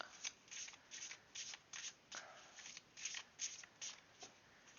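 A deck of playing cards shuffled by hand, heard as a quick run of rapid riffling bursts at a steady rhythm, close but faint, with no speech.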